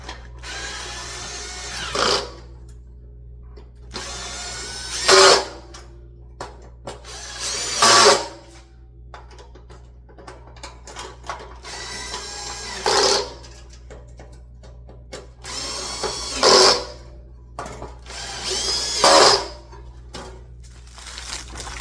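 A power drill drives screws while a three-burner gas grill is assembled, whining in several short, loud bursts separated by quieter gaps of handling and rustling over a steady low hum.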